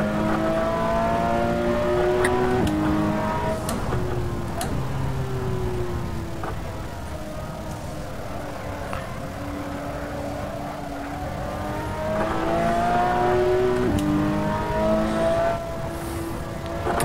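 Onboard a Porsche lapping the Mugello race track, the engine drones continuously and close, its pitch climbing through each gear then dropping at shifts, with surges of acceleration and lifts for corners.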